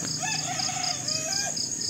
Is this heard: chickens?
yes